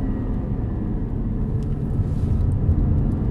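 Inside a Polestar car at full throttle, a steady low rumble of road and motor noise with a faint rising whine, continuous and close, no talk.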